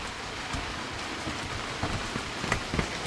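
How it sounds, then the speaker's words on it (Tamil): Rain falls steadily as a continuous soft hiss, with scattered sharper drops tapping nearby surfaces and no voices. "சரி மழைங்க."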